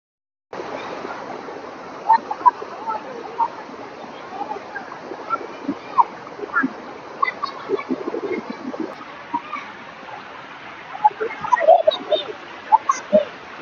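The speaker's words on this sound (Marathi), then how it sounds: "आता तुम्हाला वरती धबधबा दाखवतो" A waterfall at Gothe Khalati in Mandangad, Maharashtra gives a steady rushing wash of water, with scattered splashes and faint voices of people nearby throughout.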